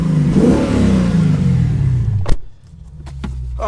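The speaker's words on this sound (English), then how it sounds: "Give it a rev here again." A Lexus GSF V8 fitted with a new aftermarket exhaust revs up loudly and close, its deep roar swelling and then dropping off abruptly, followed by a few short pops and a low idle.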